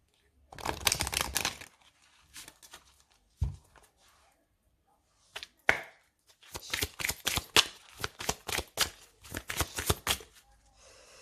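Oracle cards being shuffled up close, two long bursts of rapid riffling and fluttering separated by a quiet gap with a couple of single taps, no talking.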